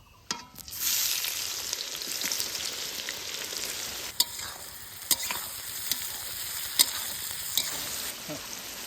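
Chopped onions sizzle in hot mustard oil with whole garam masala, a steady close frying hiss broken by several sharp clicks of stirring against the pan.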